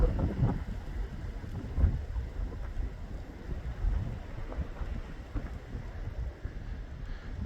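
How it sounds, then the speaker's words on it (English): Strong wind buffets the microphone on an open hilltop, a low rumbling roar with irregular gusty surges, steady and close throughout with no talk. "Really windy up here, folks."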